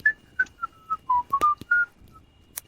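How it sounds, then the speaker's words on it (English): A cheerful melodic whistle, a series of short clear notes in a loose tune, fairly faint and distant, with a few soft clicks between. "just kind of happy whistling off in the distance, and it's out in the woods a little ways."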